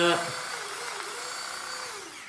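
A spinning vegetable chopper whirs through coriander leaves at home, a steady close mechanical drone with a higher whine. People talk over it.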